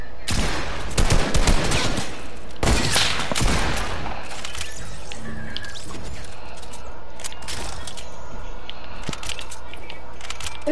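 Dense bursts of rapid gunfire in a video game, loud and close, with sharp volleys early and a steady crackle of shots continuing throughout.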